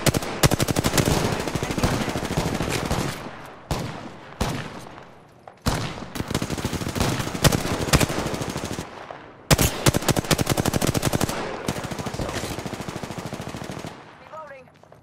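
Rapid automatic gunfire in an Apex Legends match comes in long, loud, dense bursts separated by brief pauses, with sharp individual shots and echoing tails between volleys.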